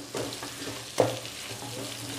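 Spicy dried fish and brinjal are stirred together in a hot pan, a steady frying sizzle running beneath soft scraping strokes and one sharper knock of the spatula near the middle.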